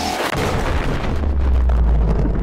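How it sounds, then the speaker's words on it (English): A loud, continuous rumbling explosion from fireworks going off in a video game, a dense booming roar that sustains through the whole moment without voices. "I love fireworks."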